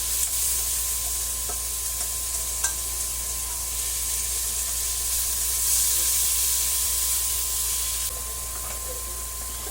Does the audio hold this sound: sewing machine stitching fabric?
no